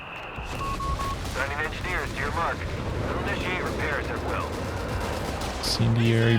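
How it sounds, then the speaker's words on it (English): Incendiary bombing in Company of Heroes 3 rumbles and crackles with a continuous burst of explosions and gunfire, joined by scattered whistling shells and a few short voice lines. "Incendiary bombing"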